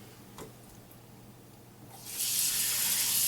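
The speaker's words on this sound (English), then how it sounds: "give the chicken a quick rinse" A kitchen tap turns on partway through and runs in a steady hiss as raw chicken is rinsed for a one-pot soup, after a quiet start with a few faint clicks.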